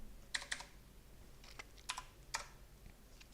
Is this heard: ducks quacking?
no